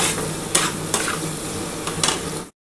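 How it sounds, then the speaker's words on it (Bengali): Spice paste for a catla fish curry is stir-fried in a pan, giving a steady sizzle with a few sharp spoon scrapes and clinks close by. It stops abruptly into silence near the end. "এবার খুব ভালো করে কিন্তু মশলাটা কষাতে হবে।"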